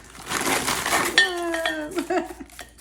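Frozen jumbo shrimp, raw and tail-off, tumble into a slow cooker with a burst of hard clinking and rattling against the crock, settling into a few lighter knocks, with a voice speaking faintly underneath.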